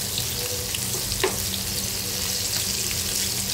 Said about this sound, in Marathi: मीडियम गॅसवरतीच हे फ्राय करून घ्या।